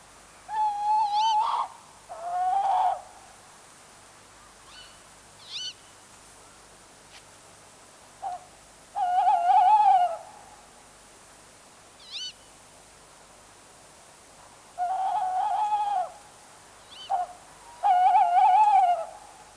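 A tawny owl calls repeatedly in winter, clear hooting phrases coming in spaced bursts against a quiet background.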